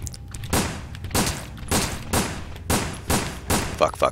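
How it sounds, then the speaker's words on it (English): Repeated gunfire aimed at zombies in the game Resident Evil Dead Aim: about seven loud, evenly spaced shots, each followed by a short echoing tail, with no talking over them. "now you can get a little taste of what shooting in this game is like"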